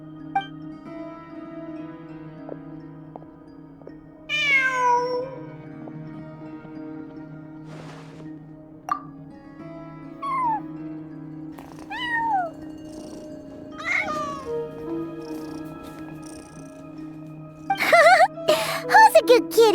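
A cat in the Genshin Impact game meows several times in short, rising and falling cries, spaced out over a steady musical drone, with a few softer chirps and a busier burst of sound near the end.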